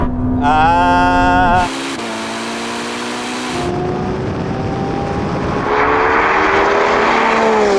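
A Lamborghini Revuelto, Ferrari SF90 and Porsche 918 race side by side in a drag race, loud engines roaring and rising in pitch through gear changes, with a steady wind-blasted rush and no speech.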